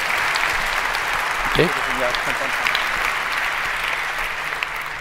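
Sustained audience applause fills a large conference hall at 34C3 for a journalist, a steady dense wash of clapping throughout, with a brief spoken voice over it.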